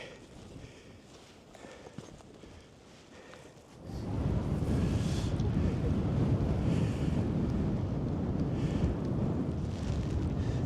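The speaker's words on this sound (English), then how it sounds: "Wind's picked up a little bit now." Wind blowing across the snowy fell summit of Helm Crag in the Lake District, quiet and gusty at first, then a loud continuous roar buffeting the microphone for the second half.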